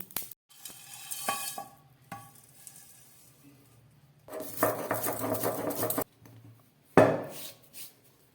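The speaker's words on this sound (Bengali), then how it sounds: "এবার আমি খুব ভালো করে এটাকে মিশিয়ে ভেজে নেবো" A fenugreek spice mix being stirred and dry-fried in a pan, heard as bursts of sizzling and scraping separated by quiet gaps, with a sharp clatter near the end.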